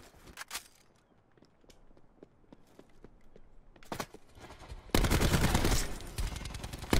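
Gunfire in the Black Ops 4 video game: scattered single shots and footsteps at first, then a sudden loud burst of rapid automatic fire that continues to the end.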